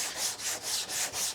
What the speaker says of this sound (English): So it's just best to run it over with the block real quick.